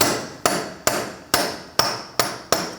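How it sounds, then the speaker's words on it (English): A hammer drives a steel punch to free a CV axle on a 2000-2006 Mini Cooper: seven sharp metallic strikes in a steady rhythm, close and crisp, each ringing briefly before the next blow. "I'm going to use a punch and a hammer."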